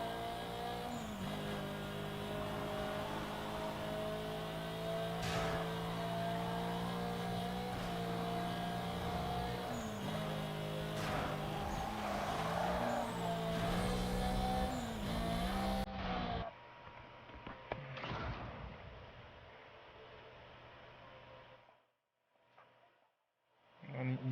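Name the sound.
racing cars in the video game Need for Speed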